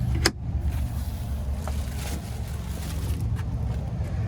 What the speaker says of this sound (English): if you wanna use the sliding rear window, pretty easy to use